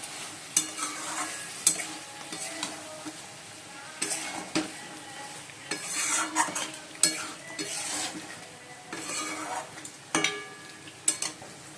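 A spatula scrapes and stirs a sizzling spice paste with mutton in a pan, with irregular metallic clinks over a steady frying hiss.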